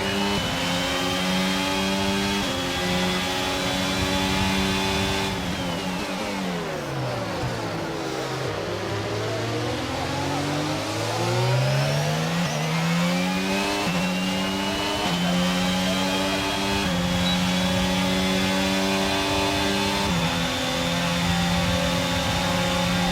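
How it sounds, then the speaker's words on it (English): In the F1 22 racing game, a Formula 1 car engine with a reliability fault at the Canadian Grand Prix drones loud and steady, its pitch sweeping down and back up as it brakes and accelerates again. "Seems like an engine issue."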